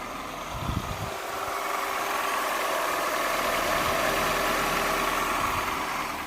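A Citroën DS3 engine, freshly fitted with a replacement cylinder head, cranks briefly and catches, then settles into a steady, close idle with a continuous low rumble and no voices.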